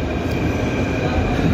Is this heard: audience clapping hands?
no